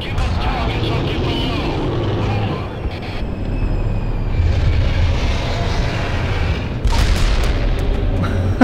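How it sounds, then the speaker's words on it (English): Heavy airstrike explosions in the video game Black Mesa, a deep, continuous booming rumble that swells and surges again near the end, loud and sustained, with talk mixed in. "We are pulling out and commencing airstrikes"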